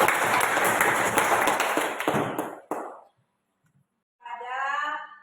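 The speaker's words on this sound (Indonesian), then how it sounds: "Bagus sekali, berikan aplaus." Classroom applause from students, a dense burst of clapping that fades out after about three seconds, followed by a short spoken voice near the end.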